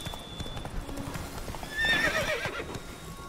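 Roach, Geralt's horse in The Witcher video game, galloping with rapid clip-clopping hooves and a whinny in the middle, at moderate volume.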